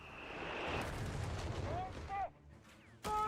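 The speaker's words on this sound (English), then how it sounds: "AT half-track already bombarding the point here" Rumbling barrage from an anti-tank half-track shelling a point in Company of Heroes 3, dense booms and battle noise with a few whistling shells, dropping briefly before a sharp blast near the end.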